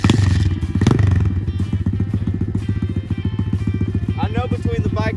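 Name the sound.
motorcycle engine left running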